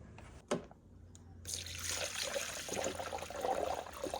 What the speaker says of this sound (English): go ahead and top it off on coolant